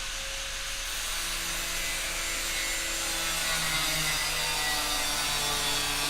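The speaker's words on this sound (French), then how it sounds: "vous avez la mélodie de la perceuse" An electric drill runs continuously with a steady, harsh whine and slowly shifting tones, close and fairly loud, with no voices.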